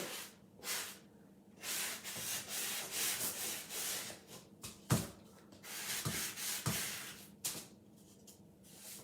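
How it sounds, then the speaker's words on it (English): Someone sands the edges of a distressed wooden Valentine sign by hand, making close, raspy rubbing strokes in uneven bursts with a few sharp knocks between them. "Sand these edges off a little bit."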